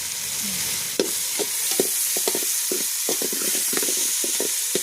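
Chopped onion frying in a large pan for chana masala for 20 to 25 people, a steady loud sizzle with repeated scraping stirs of a spoon across the pan.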